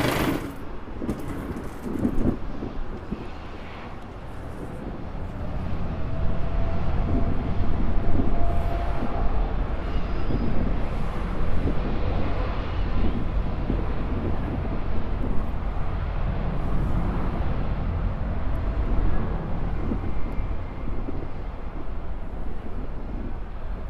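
An Emirates airliner on the downwind leg near LAX, heard as a steady, broad low roar that swells after a few seconds and holds loud and continuous.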